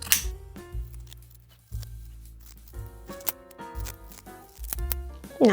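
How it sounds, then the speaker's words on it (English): Scissors snip through fabric to trim a quarter-inch seam allowance on a sewn tulip scarf, giving a string of close, crisp irregular cuts along with rustling cloth. "Let's grab some scissors and just cut about a 1/4 inch seam allowance all around."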